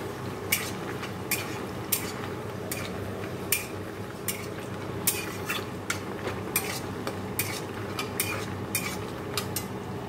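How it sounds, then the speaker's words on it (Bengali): Tangra fish frying in hot oil in a pan, a steady sizzling bed with repeated sharp clinks of a spatula or utensil striking the pan at an uneven rhythm, close and moderately loud with no talking. "চলো আমি আগে মাছগুলো ভেজে তোমাদের দেখাচ্ছি"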